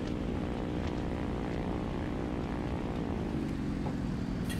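A propeller aircraft engine in the War Thunder game drones steadily, a fairly quiet, continuous whirring hum whose pitch dips slightly toward the end, with no talking.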